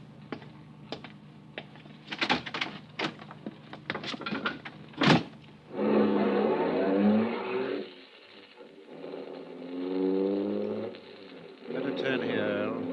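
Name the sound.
car driving in a radio drama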